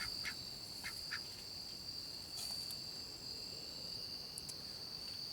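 Ducks quack a few times from their coop at moderate distance, short scattered calls over a constant high insect drone, with no talking.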